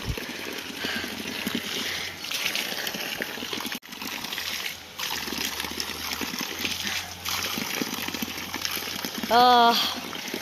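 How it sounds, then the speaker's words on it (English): Hands are washed under steady running water that trickles and splashes nearby for several seconds in remote mountains, with a short high-pitched call near the end. "This is my daily hand wash, by the way."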